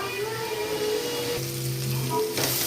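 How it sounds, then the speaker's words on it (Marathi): Ground masala paste frying in oil in a pan on low gas, a soft continuous sizzle with faint bubbling and a brief stir near the end, with no voices. "कमी गॅसवर आपल्याला हे वाटण मस्त तेल येईपर्यंत असं छान फ्राय करून घ्यायचं"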